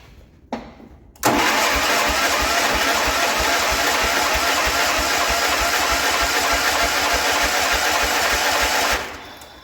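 A 1973 John Deere 140 H3 garden tractor engine, long stored in a barn, cranks over with a rapid rhythmic chugging, loud and close, running for several seconds after a brief click and stopping abruptly.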